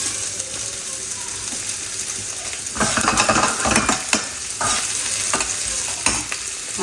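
Garlic and onion frying and being stirred in a pan for Mexican rice, a steady close sizzle with scraping stir strokes growing busier partway through.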